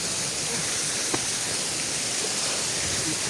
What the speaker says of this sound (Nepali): लास्टमा झर्ना चाहिँ यही हो है छोटी झरना है